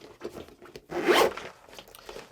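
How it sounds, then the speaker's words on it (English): A stiff zipper on a Vulcan Weatherlock boating bag is tugged open in short close rasps, ending in one longer, louder zip near the middle, and no one speaks. "The zipper's a little bit tough, as mentioned."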